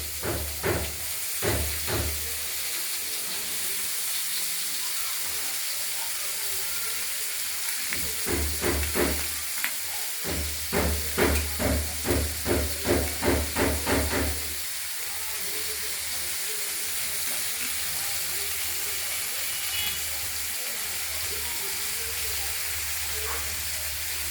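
Chopped cabbage fries in a hot pan for a potato and tomato curry, with a steady, loud hiss running throughout and a voice breaking in at intervals.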